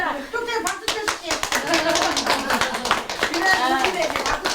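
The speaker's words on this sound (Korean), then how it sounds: "좀 전에 박수 쳐줄게." Hands clapping in short bursts at a Korean shaman family's ritual, mixed with close overlapping talk and a voice.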